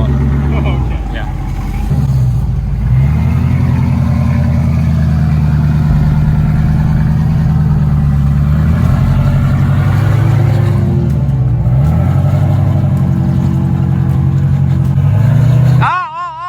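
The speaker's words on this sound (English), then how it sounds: "So you hit the gas and just go up." A jeep engine rumbles and revs steadily as it climbs an off-road obstacle, loud and close for most of the stretch, with its pitch rising and falling under the throttle, then a sudden sharp change right at the end.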